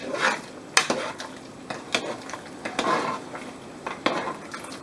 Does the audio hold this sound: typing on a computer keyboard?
no